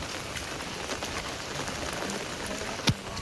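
Heavy monsoon rain pours over a Gujarati village street flooded with running water, a steady dense hiss of drops on surfaces with a brief sharp knock near the end.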